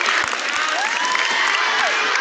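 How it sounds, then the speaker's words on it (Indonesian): Applause from a school audience at a Trash Hero event, with clapping mixed with children's voices and crowd noise, steady and fairly near for a couple of seconds. "Yang berikan tepukan untuk Adam"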